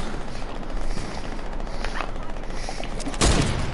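Gunfire in the military shooter game Squad, a steady crackle of distant shots through the clip and one louder, sharper report near the end, with no talk.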